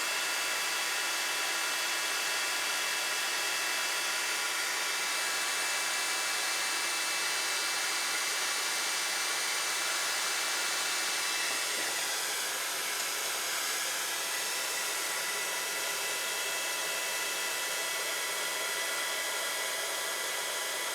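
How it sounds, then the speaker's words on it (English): Heat tool melting embossing powder on a black and white card, a constant loud blowing whir with no breaks from start to finish. "So let's heat the heat tool up."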